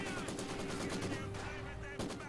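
Rapid automatic fire from a Maxim machine gun in the Company of Heroes 2 strategy game, a dense continuous rattle of shots running steadily at a constant loudness under the battlefield din, with a brief dip near the end.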